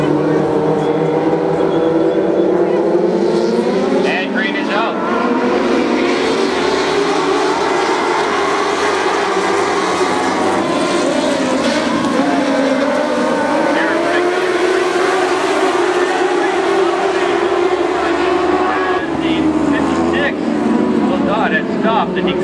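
Dwarf cars racing at Barona Speedway, engines roaring continuously and loudly as the pack runs together, with a public-address announcer talking over the noise throughout.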